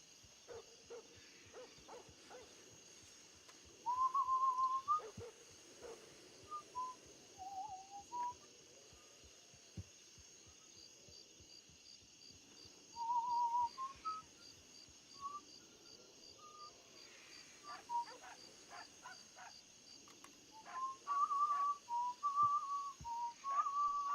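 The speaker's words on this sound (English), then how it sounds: "maybe a nice, gentle whistle might help" A character in the RedM WildRP western roleplay whistles a gentle, lilting tune in short melodic phrases, repeated several times over quiet ambient hum, with soft clicks and thuds scattered between.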